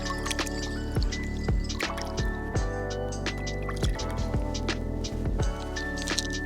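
A fire starter is dipped in water and drips, with several distinct wet drops and squishy splats spaced irregularly, close and clear, with no talking.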